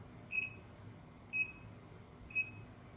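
Three short electronic beeps from a fitness app countdown timer, evenly spaced about a second apart, thin and high-pitched over a quiet background hum.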